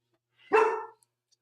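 A dog gives one short, sharp bark close by indoors, followed by silence.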